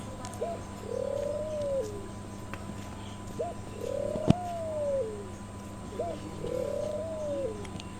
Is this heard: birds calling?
yes